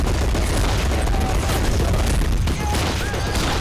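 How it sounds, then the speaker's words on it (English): Sustained volleys of rifle and machine-gun fire from German and Russian infantry in the Men of War World War II strategy game, a dense continuous battle roar with booming low end and crackling shots throughout. "The Germans are returning fire."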